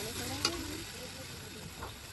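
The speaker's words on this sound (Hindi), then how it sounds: "अब मसाले को तब तक फ्राई करेंगे जब तक थोड़ा ब्राउन ना हो" Masala spices with salt and turmeric frying in oil in a pan give a steady, even sizzle and hiss throughout, with a faint clink near the start.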